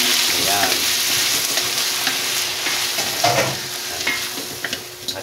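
Food stir-fries in a pan after Tiger Brown sugar is added, a loud continuous sizzle with spatula scrapes and stirring clatter throughout, close and without speech.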